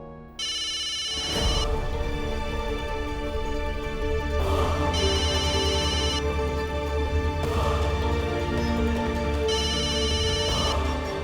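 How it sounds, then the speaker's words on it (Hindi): A phone rings with an incoming call, a loud melodic ringtone repeating in cycles of roughly three seconds, heard alone with no talking. "पापा, ये नेहा क्यों आपको फोन कर रही है?"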